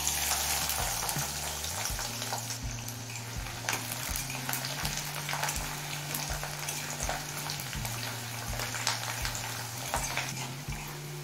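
Crushed garlic hits hot oil already holding dry red chillies, giving a steady close sizzle and crackle with intermittent stirring scrapes throughout, no voices.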